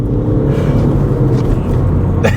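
A Skoda Fabia 1.6 TDI with an upgraded exhaust accelerates on ice with its wheels spinning, giving a steady close engine drone and whir with no talk over it.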